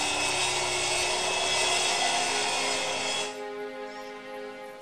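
Mahogany wood being sawn in the adventure game Zak McKracken 2, a steady, dense rasping saw noise that fills the first three seconds and then cuts off to quieter background game music.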